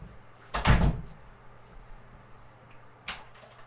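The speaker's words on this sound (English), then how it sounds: "shut that door." An indoor door is pushed shut at home, giving one firm thud, followed a couple of seconds later by a softer knock against a quiet room background.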